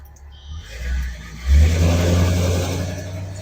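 A car engine idles with a deep, low rumble, then revs up sharply into a loud, sustained growl that settles slightly as it holds, close and prominent on a morning drive to a Cars and Coffee meet.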